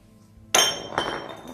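A glass object clinks at an art exhibition opening, with a sharp, bright strike followed by a second lighter clink, close and fairly loud against a quiet room.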